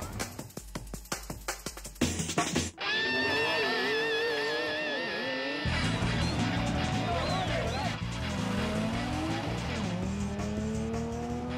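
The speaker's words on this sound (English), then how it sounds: "a Millennium matchup among some of the quickest sport compacts in the country" Sport compact cars drag racing at a motorsports park, with loud, sustained engine roar and revving that rises in pitch through gear changes, dense and continuous for the whole stretch and with no talking.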